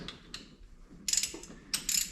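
A big ratchet works on an old Oldsmobile engine, giving two short bursts of quick metallic clicking, close and clear against a quiet background.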